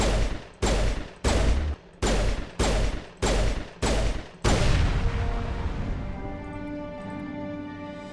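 Assault rifle fire in the video game Mass Effect: seven sharp, loud bursts in a steady rhythm, followed by a heavy blast that decays into a lingering ringing tail, with no talking.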